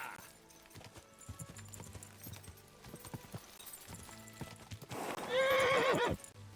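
Horse in the medieval video game Kingdom Come: Deliverance II, with soft hoofbeats clopping for several seconds before a loud, close whinny near the end.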